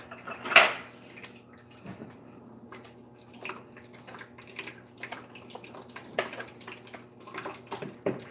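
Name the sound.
spoon taken from cutlery and dishes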